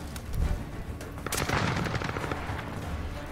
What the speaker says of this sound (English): Can you shoot your gun, dude?